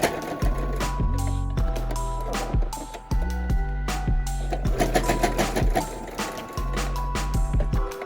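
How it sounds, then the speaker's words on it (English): A sewing machine stitches over a pleat on a rectangular fabric mask in short, rapid bursts, stopping and restarting several times with brief pauses, close and clear. "And I'm going to sew over that one."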